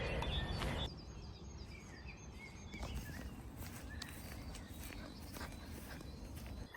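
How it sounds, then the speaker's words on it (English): Birds chirp and trill in short repeated calls in the early morning over steady crunching footsteps outdoors. "And listen to the birds."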